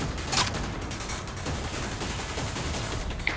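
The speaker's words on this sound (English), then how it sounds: "I can hear gunshots" Rapid gunfire from the Killing Floor video game crackles in a dense, continuous burst, with a sharper crack near the start and another at the end.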